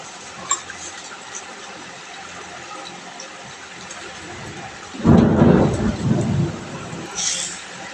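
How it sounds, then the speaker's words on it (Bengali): Heavy thunder bursts partway through, a loud rolling rumble with rain and a later crack, over a steady outdoor rain hiss. "বাইরে বৃষ্টি আরম্ভ হয়ে গেছে"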